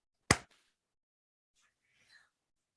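One sharp, close hand clap rings out alone in a quiet room to sync a recording, followed a moment later by a faint, brief rustle.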